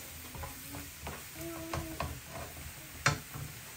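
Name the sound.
food frying and sizzling in a pan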